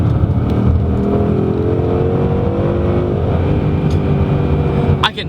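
A 2015 Ford Mustang GT's V8 engine revs loud and close while the car drives, a sustained roaring pull with rising harmonic tones that eases off at the end.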